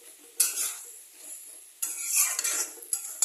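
Scraping, clinking stirs of a utensil through a pan of fish head and cabbage curry with potatoes, in two or three short close bursts with a quiet gap between.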